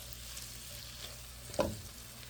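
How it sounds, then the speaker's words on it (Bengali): Spices and salt sautéing for a rupchanda fish curry with brinjal and potato make a faint, low sizzle, broken by one brief, sharper clatter of stirring near the end. "লবণটা দিয়ে দিলাম একটু কষিয়ে নেব যেন কাঁচা গন্ধটা চলে যায়"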